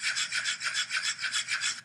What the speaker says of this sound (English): Okay, keep sanding that off.